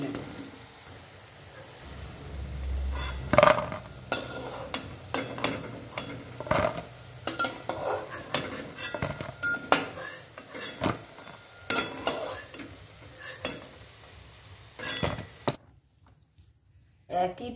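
Red lentil fritters fry in hot oil with a soft steady sizzle, broken by frequent clinks and scrapes of a metal utensil lifting them out of the pan, while a person talks over the cooking.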